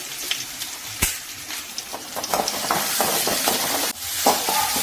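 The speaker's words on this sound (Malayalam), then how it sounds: "പിന്നെ ചെറിയ ഉള്ളിയും വെളുത്തുള്ളിയും കറിവേപ്പിലയും കൂടി നന്നായിട്ട് മുപ്പിച്ചെടുക്കുക." Shallots, garlic and curry leaves fry and sizzle in a pan, a steady close crackle broken by sharp stirring clatters against the pan.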